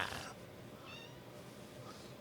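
Brief mewing from a small cat in a quiet room, a couple of faint high calls over low background noise.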